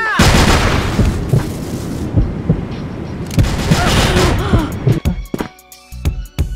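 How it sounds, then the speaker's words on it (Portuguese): A grenade blast in a first-person shooter game, an M4A1 in play, booming loudly near the start and again midway, with sharp gunfire cracks trailing off toward the end. "Granada!"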